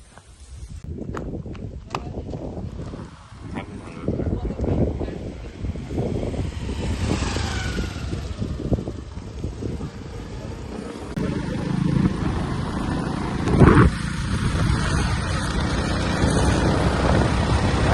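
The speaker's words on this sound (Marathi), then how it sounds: "आम्ही निघालोय आता, गाडी चालवतोय." A car or similar road vehicle is driven along a road toward the Anjarle lighthouse in the Konkan, giving a steady rumbling drive noise with wind and road bumps throughout and a few louder knocks.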